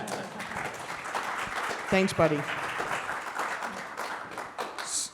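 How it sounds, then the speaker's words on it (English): An audience claps steadily through the clip while someone speaks briefly over the applause. "Round of applause for that"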